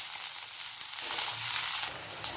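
Garlic and dried red chillies sauté in a pan over a low flame for a garlic chutney, giving a steady close-up sizzle and crackle with a few soft stirring scrapes and no talk.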